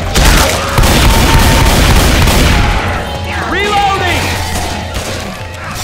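Game gunfire in Left 4 Dead 2, dense booming bursts of shots in the first half that ease off, with a voice calling out over the shooting and clattering game effects.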